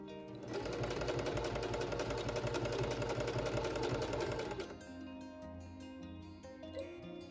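A sewing machine runs steadily, top stitching a denim jacket sleeve, with a loud continuous rapid whir for about four seconds before stopping abruptly, leaving a lower hum and faint handling noises.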